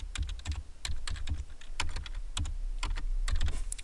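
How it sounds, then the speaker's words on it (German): Someone types text into a field on a computer keyboard, giving a close, brisk run of irregular key clicks and taps that continues steadily throughout. "Ich schreibe aber nun einen Text über die Tastatur in dieses Feld hinein."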